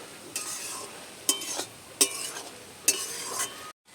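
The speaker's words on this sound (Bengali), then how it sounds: "এবারে সামলাটাকে নেড়ে চেড়ে রান্না করে নেবো" Water lily stems and shrimp stirred in a cooking pan, with a steady sizzle of frying under four sharp scrapes of a spatula against the pan, close and clear, with no talking.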